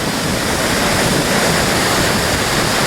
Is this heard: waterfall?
yes